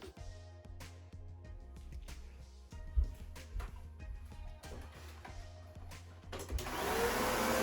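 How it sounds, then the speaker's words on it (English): A vacuum cleaner cleans a room, starting with clicks and knocks, then swelling into a loud steady whine in the final seconds. "Vacuuming for me is the final thing in any quote unquote project that I'm doing."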